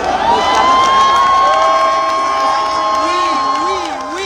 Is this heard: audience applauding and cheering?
yes